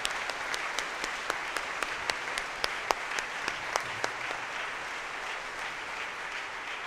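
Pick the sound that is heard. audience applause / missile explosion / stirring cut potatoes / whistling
audience applause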